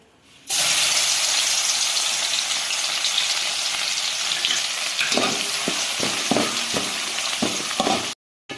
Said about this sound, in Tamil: பாருங்கள் பூண்டு நல்லா ஃப்ரை ஆயிடுச்சு